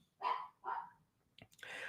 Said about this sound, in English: Oh, you guys hear my dog barking?